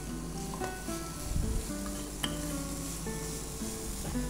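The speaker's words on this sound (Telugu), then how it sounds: "హై ఫ్లేమ్లో ఇవన్నీ వేసుకున్న తర్వాత ఒకసారి హై ఫ్లేమ్లో అన్నింటి తిప్పేసుకుంటే సరిపోతుంది" Carrots and mixed vegetables for spring rolls stir-fried on high flame, a continuous sizzle broken by scraping stirs and light clinks of utensil against pan, close and moderately quiet.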